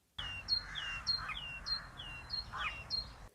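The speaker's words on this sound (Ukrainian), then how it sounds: "мила пташка жовтогруда. Тож нехай піснею своєю вас вона розбудить" A yellow-breasted tit sings alone, a bright, close series of repeated high chirping notes in a steady rhythm.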